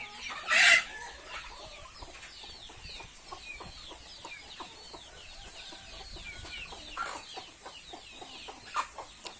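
Chickens cluck in short, scattered bursts over a farmyard background, with one sharper, louder call near the start; no one speaks.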